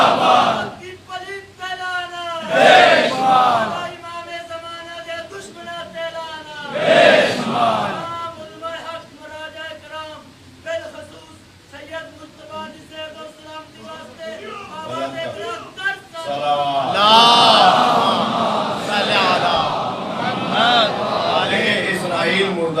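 At a religious gathering, a large crowd shouts political slogans in loud, rhythmic call-and-response bursts, with a single amplified voice leading between the roaring replies.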